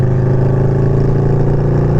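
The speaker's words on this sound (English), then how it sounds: "I'm sure y'all can hear that exhaust" A 2017 Harley-Davidson V-Rod Muscle with loud aftermarket-style pipes idles or runs steadily, a deep, close, continuous exhaust rumble with a fast even pulse.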